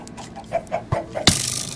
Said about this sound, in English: Frickin' chickens!